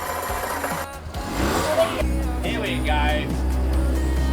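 A catamaran's outboard-style engine cranks and catches after cutting out, settling into a low steady running hum as someone speaks briefly over it.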